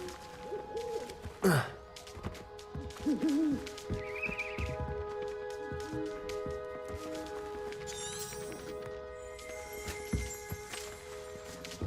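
A bird in the Hogwarts Legacy video game gives owl-like hoots and thin chirping whistles over a quiet ambient game soundscape, with a brief breathy sigh-like sound near the start.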